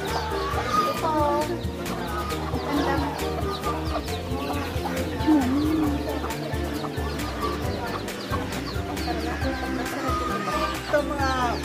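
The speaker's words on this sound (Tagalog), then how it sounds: "Ito mga native chicken." Native chickens on a duck and chicken farm cluck and chirp continuously nearby, with busy overlapping calls and a voice talking in the background.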